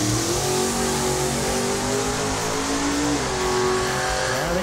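A drag racing car does a burnout, its engine screaming at high revs in a loud, continuous, close-up howl with shifting pitch, alone without talk.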